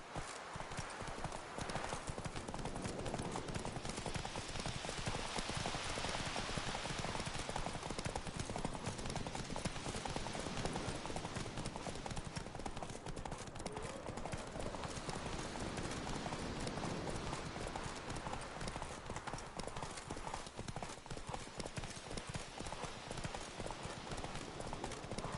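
Roach, a horse in The Witcher 3, galloping in a rapid, continuous clip-clop of hooves that stays close and steady throughout, with a faint neigh and low voices in the background.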